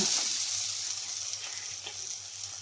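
Sausage masala sizzles steadily in a pan while being stirred and fried, a close, continuous frying hiss with faint scraping and no voices.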